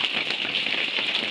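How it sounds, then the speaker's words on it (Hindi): Heavy rain pours down in a steady, dense hiss with no break, loud and close, with no one talking. "ये देखिए जी कितनी ज़ोर और शोर से बारिश हो रही है हमारे यहाँ।"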